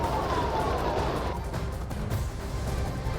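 An ambulance siren wails in the distance over a steady low rumble of traffic and street noise, its tone sliding downward before fading into the din.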